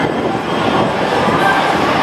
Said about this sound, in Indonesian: Di depan sana kereta yang ke arah Bundaran HI sudah datang.